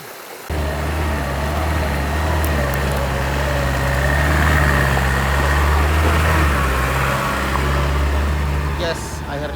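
A car engine climbs a steep, rocky, wet mountain road at Gunung Jampang in rural southern Garut, droning loud and steady under strain for the whole stretch, close by, with rough rumbling underneath.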